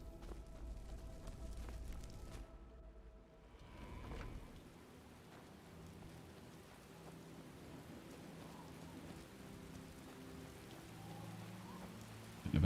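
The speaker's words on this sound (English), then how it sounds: "A bit of a sun shower." Soft, steady patter of video game rain during a sun shower with a low rumble, continuous and faint throughout, with a brief quieter dip partway through.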